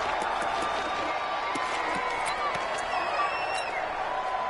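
Steady roar of a stadium crowd inside a domed stadium during a football video game, an even wash of noise with scattered shouts and whistles and no clear pauses.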